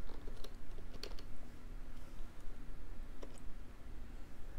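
Keyboard typing to enter a search for Kodi on a Leelbox M8S Max 4K Android 7.1 TV box: scattered key clicks in short bursts over steady background hiss, no talk.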